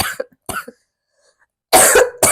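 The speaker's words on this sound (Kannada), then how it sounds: "ನನಗೆ ಕೆಮ್ಮು ಜಾಸ್ತಿ ಆಗಿದೆ." A person coughs in a few short, harsh bursts: two brief coughs, a pause of silence, then a louder, longer double cough close to the microphone.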